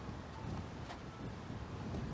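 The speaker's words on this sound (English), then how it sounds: "The wind is picking back up again as I speak." Strong outdoor wind gusts rumble and buffet the microphone continuously, a dense, low, roaring blast with no voices.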